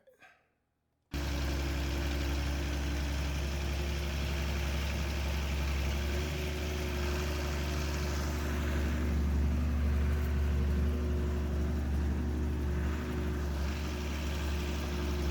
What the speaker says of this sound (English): So we're on a tractor.